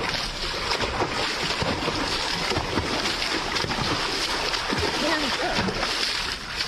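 A bear splashes in water, a continuous dense churn of sloshing and spattering that holds steady and loud throughout, with voices talking faintly underneath.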